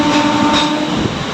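A local train on the Rajahmundry–Kakinada line rumbles loudly past a crossing at night, a close, continuous roar of wheels and carriages with a sustained horn-like tone underneath.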